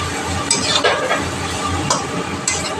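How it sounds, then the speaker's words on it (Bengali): Eggs go into a hot pan of frying spices for an egg bhujia, bringing a soft sizzle under scraping stirs and light clinks of a utensil against the pan, close and steady. "এখন আমি ডিমগুলো দিয়ে দেবো।"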